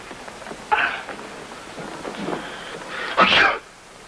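Two abrupt bursts of a sneeze-like exhalation, the second louder and closer, over quiet room noise.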